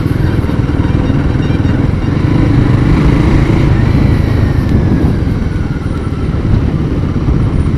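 A Royal Enfield Guerrilla 450 motorcycle engine drones loudly and continuously while riding, with wind rush and a steady low rumble throughout and only slight dips in intensity.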